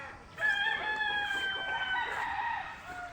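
A rooster crows once in a long, drawn-out call, moderately near, with hens faintly clucking in the background.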